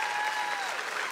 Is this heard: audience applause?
yes